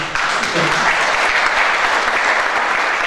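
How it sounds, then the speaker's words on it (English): A room at a city board meeting breaks into applause, dense even clapping that holds steady for about three seconds after a short pause. "You may clap."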